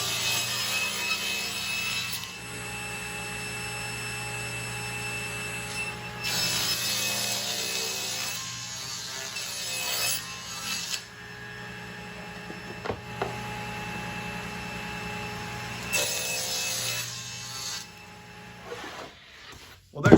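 A saw makes repeated cross cuts through wooden boards for swarm-trap boxes, each cut a steady buzzing whine lasting a few seconds, separated by quieter mechanical pauses and knocks.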